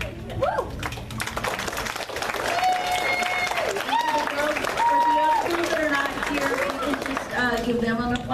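Audience applause at a cheerleader awards ceremony, sustained clapping running beneath a speaker's amplified voice and lively background music.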